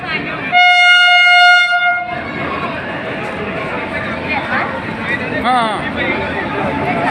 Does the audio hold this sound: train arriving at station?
yes